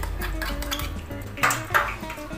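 A spoon stirs a gelatin mixture with sugar in a pot, scraping and clinking against the metal in a steady rhythm, with a couple of louder knocks near the end and no talking.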